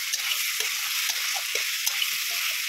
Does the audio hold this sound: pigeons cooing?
no